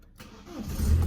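An Audi that had trouble starting turns over and fires up, a brief crank rising quickly into a steady low engine rumble, close and alone.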